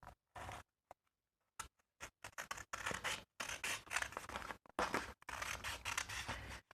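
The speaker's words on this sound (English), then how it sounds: "I can rest my scissors against it and use that as a guide for cutting out." Scissors make a run of short crisp snips while cutting around a piece of stiff matte photo card, each cut a quick close dry crunch, with brief pauses between bursts and no talking.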